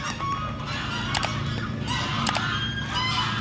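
Honking waterfowl calls from ducks in a park in Mexico, several sharp cries scattered over steady outdoor background noise, fairly close.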